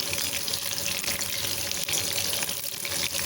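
Soya chunks coated in masala frying in a pan for a Soya 65 snack, giving a steady, crackling sizzle with a faint watery bubbling underneath, heard close up with no talking.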